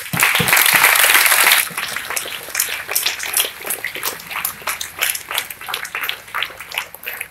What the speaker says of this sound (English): So big applause everyone.